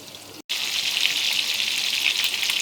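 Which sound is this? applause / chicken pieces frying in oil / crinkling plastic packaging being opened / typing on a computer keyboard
chicken pieces frying in oil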